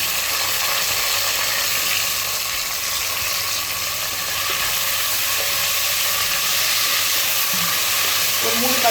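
Two large, thinly sliced onions sauté in a pan with a steady, close frying sizzle and hiss that runs unbroken throughout.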